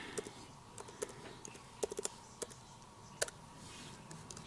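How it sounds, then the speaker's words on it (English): Soft, scattered keyboard clicks tap out in an irregular rhythm, close and quiet, with a few sharper keystrokes standing out. "I'm just typing right now"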